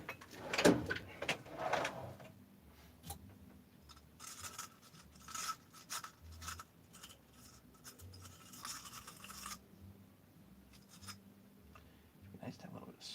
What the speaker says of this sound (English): I need to hit that with some emery